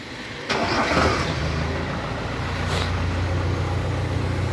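A tractor engine starts up outside near a house under renovation, catching abruptly and settling into a steady, loud mid-pitched idle rumble with no talk over it.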